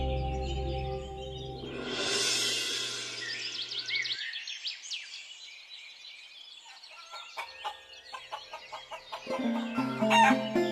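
Roosters kept in a cage crow loudly one after another, with clucking and gobbling fowl in between and a busy farmyard clamour that swells again toward the end.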